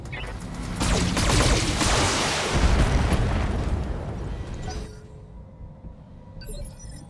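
Turrets fire in the mech combat game BattleTech, a dense rumbling barrage of blasts and explosions that swells for several seconds before fading into a quieter tail.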